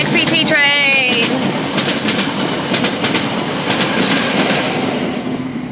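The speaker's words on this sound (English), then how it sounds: "XPT train." An XPT passenger train runs close by with a loud, continuous rumble and rhythmic clickety-clack of wheels on rail, with tonal squeals at the start.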